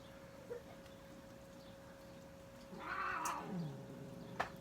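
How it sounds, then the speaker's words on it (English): Two house cats fighting in the background of an indoor makeup session, a burst of mid-pitched yowling and growling caterwauls swelling for about a second and a half, then a sharp yelp near the end over a steady electrical hum. "And my cats are gonna fight in the background"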